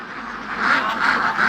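A flock of free-range ducks on a large duck farm quacks in a dense, steady chorus that swells slightly midway and carries on without pause, with no speech.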